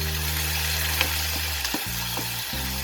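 Pork ribs drop into caramelized sugar in a hot pan and sizzle loudly and steadily, close by, with a few brief stirring scrapes and no voices.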